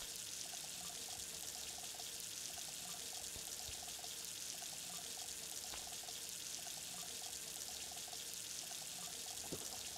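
Water pouring and trickling steadily in the Junkyard Truck video game, a soft continuous splashing stream at low volume with no talking.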